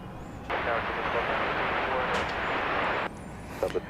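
A jet airliner approaching to land on runway 31 left at Dallas Love Field at night, a loud steady roar that passes close, then cuts off sharply, leaving quieter ambience behind.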